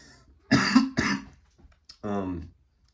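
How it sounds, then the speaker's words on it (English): Two harsh coughs from a lingering cough in quick succession, close and fairly loud, then after a pause a throaty rasp or throat clearing. "this cough is just not going"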